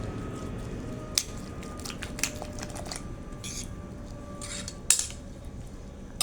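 Eggs with chopped onion, coriander and green chili are mixed in a bowl, giving soft scraping and a few sharp clinks of utensil against the bowl, quiet and close with no talk.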